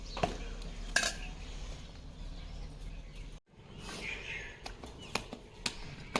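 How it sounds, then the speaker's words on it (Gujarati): Cabbage and carrot sambharo stirred in a pan, with scattered clinks and scrapes of a utensil against metal, fairly faint, alongside soft background voices and a brief bird chirp. "હવે સંભારાને આપણે હલાવી અને ઉતારી લઈએ"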